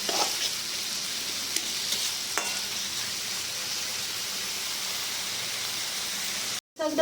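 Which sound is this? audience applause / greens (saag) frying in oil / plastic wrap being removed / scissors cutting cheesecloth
greens (saag) frying in oil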